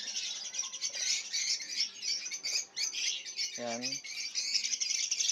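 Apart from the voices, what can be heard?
masked lovebirds (personata) chirping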